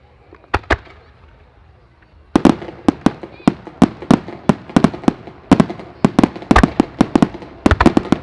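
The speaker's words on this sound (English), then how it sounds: "3 4-inch 8-break purple and silver explosions and 3 4-inch 5-break shells" Large 4-inch multi-break firework shells burst at a European firework demonstration festival, a fast irregular string of sharp cracks and pops, some close and loud, after a quieter opening with a few isolated bangs, with voices faintly underneath.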